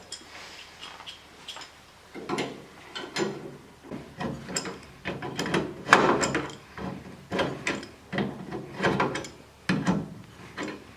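An adjustable wrench works on the hood latch of a 1976 Mustang II, with a rhythmic series of close metallic clanks and ratcheting knocks repeating roughly every half second.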